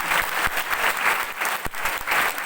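A brief burst of dense crowd clapping from a seminar audience in Kota, loud and continuous, with a few sharper individual claps standing out and no voices.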